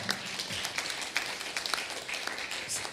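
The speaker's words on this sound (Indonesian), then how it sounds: "Tepuk tangan." A church congregation gives a brief round of applause during a service, a scattered, moderately distant patter of claps that swells and fades over a few seconds.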